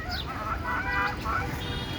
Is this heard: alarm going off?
no